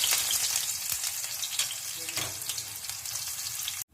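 Mustard seeds, cumin and onions fry in hot oil for an eggplant stir-fry, giving a steady close sizzle with crackles and brief stirring clatter, no voices heard.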